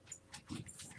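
Small dog whimpering faintly in a room, a few short high whines in quick succession, quiet and somewhat distant.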